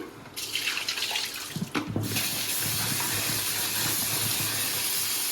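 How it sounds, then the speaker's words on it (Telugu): Pieces of bitter gourd are rinsed in a bowl of water, with splashing and sloshing near the mic, then a brief clatter and a steady running-water wash. "నీట్గా ఇట్లా వాష్ చేసుకొని మళ్ళీ రెండు సార్లు పచ్చగా వచ్చేదంతా పోయిన తర్వాత మనం మళ్ళీ ఇంకొకసారి వాటర్ పోసుకొని"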